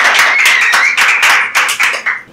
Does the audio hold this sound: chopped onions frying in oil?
no